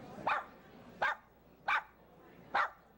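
A trained dog barks four times at an even pace, short sharp woofs separated by quiet gaps, fairly close, answering an arithmetic question on stage.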